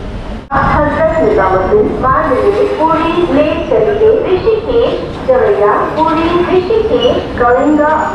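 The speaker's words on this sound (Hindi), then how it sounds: "और ये है रेलवे स्टेशन" Busy ambience at Raigarh railway station with a steady rumble of a train and constant crowd chatter, a sudden onset then continuous loud noise throughout.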